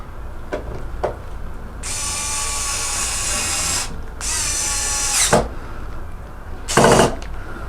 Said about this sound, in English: we're gonna take the screw that was in there before with the spacer, and we're gonna screw it down